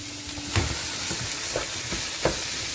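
Meat browns in a hot pan for a taco lasagne, a loud steady sizzle close by with several sharper bursts of spitting and stirring scattered through it, no talking.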